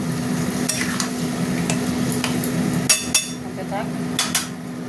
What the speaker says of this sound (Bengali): আস্তে আস্তে মশলা কষা হতে থাক।